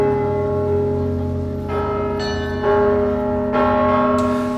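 Church bells ring with deep, sustained resonant tones, and fresh strikes layer new chimes over the lingering hum every second or so, loud and unaccompanied.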